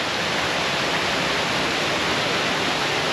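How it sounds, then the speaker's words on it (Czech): A waterfall in Albania roars steadily, a dense, unbroken wash of rushing water that stays loud and even from start to finish, with no voices over it. "To jsme se jeli kouknout na vodopád"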